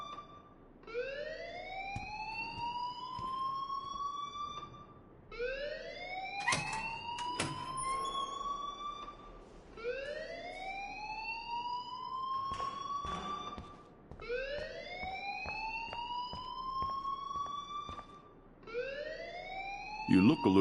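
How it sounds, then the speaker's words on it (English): An alarm wails in the video game Life is Strange, a rising siren tone repeating about every four seconds in steady cycles, loud and mechanical, with faint clicks and thumps between sweeps. "please turn off that alarm since that's your job"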